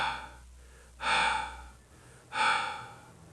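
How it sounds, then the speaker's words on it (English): Two loud, close breaths, each a harsh drawn gasp lasting about a second, separated by a pause, with a faint low hum underneath and no talking. "I heard someone breathing."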